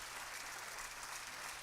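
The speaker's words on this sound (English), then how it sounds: "They're applauding too much" An audience at the Alfa Romeo F1 Team Stake C43 2023 launch applauds steadily, a dense even wall of clapping that sounds slightly distant and holds throughout without anyone speaking.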